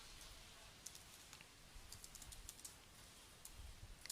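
Someone types code on a computer keyboard in quick, irregular bursts of light clicking keystrokes, close but faint, with brief pauses between runs and no voices.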